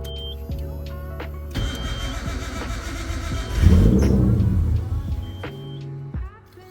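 A Nissan R32 GTR engine with a freshly swapped battery cranks briefly, catches and fires up, then settles into a steady idle close by, with a louder surge partway through.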